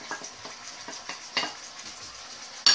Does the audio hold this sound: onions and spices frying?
yes